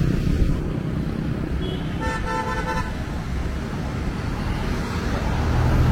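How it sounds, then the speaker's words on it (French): Car horns toot in busy street traffic in Nha Trang, Vietnam, a short burst of several honks standing out over a steady roar of motorbikes and road noise. "ils klaxonnent non pas pour comme en France pour un peu gronder, mais c'est pour prévenir ici qu'ils klaxonnent."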